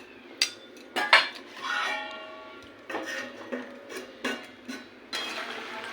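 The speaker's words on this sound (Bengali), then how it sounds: "এবার এটাকে ঢাকা দিয়ে দেবো।" A metal lid clanks onto a pot of simmering hilsa fish curry with potatoes and eggplant. Several sharp, ringing knocks and scrapes come close by, with short pauses between them and no talk.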